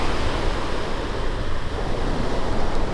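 Waves roll in along Dungeness Spit on the Strait of Juan de Fuca in Washington State, a loud, steady wash of surf mixed with wind buffeting the microphone, with no voices.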